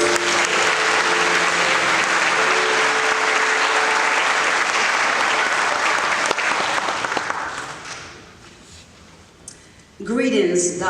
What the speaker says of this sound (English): May we receive her with applause.